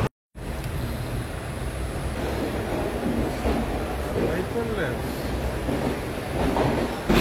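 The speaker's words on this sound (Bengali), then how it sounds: "ট্রেন কিন্তু খুব সুন্দর চলছে" Passenger train running from Asansol towards Dhanbad, heard from aboard as a continuous loud rumble with clattering wheels and rattling carriages throughout, steady and close.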